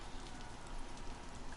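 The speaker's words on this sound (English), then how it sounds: "Let's get out of the rain for a bit." Rain falls in the video game DayZ, a steady, even patter of drops on surfaces that fills the whole moment, with no talking over it.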